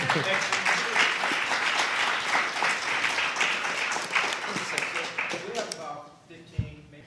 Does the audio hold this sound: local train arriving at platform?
no